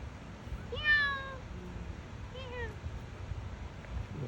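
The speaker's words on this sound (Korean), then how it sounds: "새끼 고양이." Small kitten giving two thin, high meows a second or so apart over a soft windy outdoor background.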